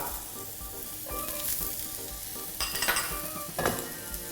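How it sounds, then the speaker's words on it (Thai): Steady sizzling of broccoli stir-frying in a hot pan with chillies and coriander root, with occasional scraping and stirring bursts, no talking. "ผมใส่ บรอกโคลีลงไปครับ"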